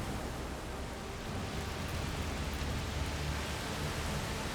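Heavy rain pours steadily in A Plague Tale: Requiem, a dense, even hiss with a low rumbling undertone and no voices.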